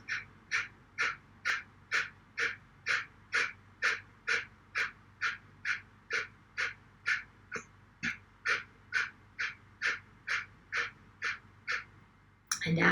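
Rapid rhythmic breathing exercise with about two dozen short forceful exhales pulsing evenly, roughly two per second, close and clear with no talking.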